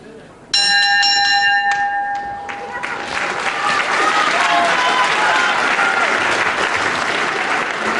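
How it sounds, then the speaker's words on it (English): A ringside bell clangs loudly at the start of round one in a British title wrestling bout, then crowd applause and cheering swell and carry on steadily. "Right on the bell, round 1."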